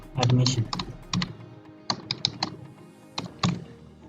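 A database name being typed on a computer keyboard, close by: a few quick runs of sharp key taps with short pauses between them, and a soft low thump at the start.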